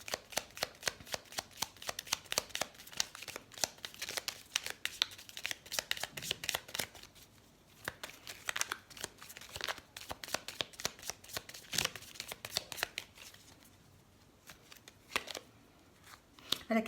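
Tarot cards being shuffled by hand, a quiet, close run of papery riffles and soft slaps in uneven bursts, easing into lighter handling in the middle before picking up again.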